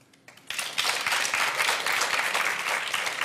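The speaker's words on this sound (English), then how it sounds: "Clap if you think it's a cardiologist." Studio audience on a medical talk show breaks into applause after a brief quiet moment, the clapping steady and full for the rest of the clip.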